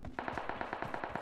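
Rapid burst of automatic gunfire in the mobile battle-royale game PUBG Mobile, about a dozen sharp evenly spaced shots firing off in quick succession.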